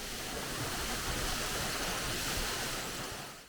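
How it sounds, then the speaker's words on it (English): Steady roar of the Huk waterfall in Ukraine, a dense, continuous rush of falling water heard close by without voices, fading out at the very end. "Ukraine's very own King Charles ventured to the Huck, a waterfall named for its distinctive sound."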